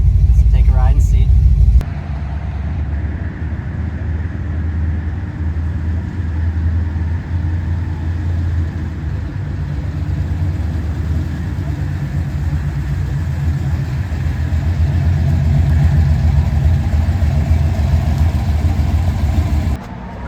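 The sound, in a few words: replica car driving and idling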